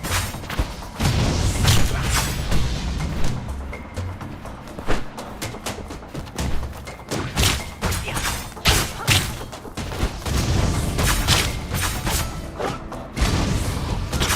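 Grenades burst in the dark action game Legacy of Kain amid a busy flurry of thuds, booms and crashing impacts, loud and close, packed together with little pause throughout.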